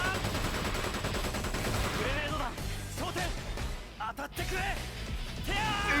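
Rapid spray of gunfire from the G3-X Kamen Rider in Kamen Rider Battride War Genesis, dense continuous bursts packed together with game effects and music, loud and sustained over several seconds.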